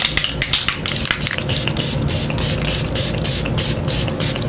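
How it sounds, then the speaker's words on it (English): Rapid bursts of setting spray misted onto a face from a pump spray bottle, a quick series of short hissy pumps repeated in rhythm, loud and close. "We're gonna go ahead and spray our face one more time."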